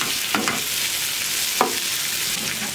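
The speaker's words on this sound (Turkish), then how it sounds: "Bir çay kaşığı dolusu da toz biber ekliyorum. Hafif şöyle yakıp kapatacağım hemen." A teaspoon of chili powder frying briefly in hot oil, a close, steady sizzle with a couple of quick stirring scrapes against the pan.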